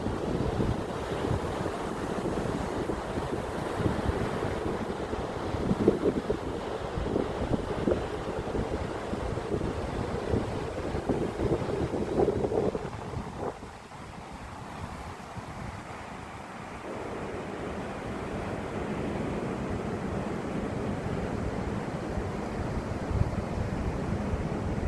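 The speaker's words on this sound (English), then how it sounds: "The sound of water is beautiful" Waves break and wash onto a sand-and-pebble beach at Hemsby near Great Yarmouth, with steady wind buffeting the microphone; the surf roars continuously, easing briefly midway before building again.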